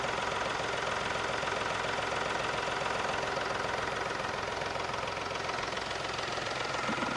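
A 2017 Mahindra KUV100 K8 diesel engine idling with the bonnet open, a steady, even clatter and hum heard close up throughout, with no talk.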